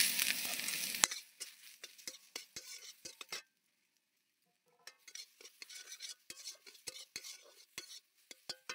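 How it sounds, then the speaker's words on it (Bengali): Grated water chestnut frying in ghee in a pan, starting with a loud hiss, then quieter sizzling broken by repeated sharp scrapes and taps of a stirring spoon, with a brief silent gap midway. "এবার দিয়ে দিচ্ছি গ্রেট করে রেখে দেওয়া পানি ফল"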